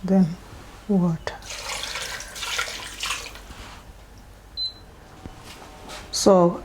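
Water pours into a cooking pot of ogbono and okra soup in a brief rushing stream for a couple of seconds, with short bursts of voice before and after it.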